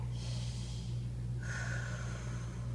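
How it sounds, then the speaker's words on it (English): A person draws a deep breath in through the nose during a neck exercise, giving two close, breathy rushes of air, one after the other, over a steady low electrical hum. "take a deep breath"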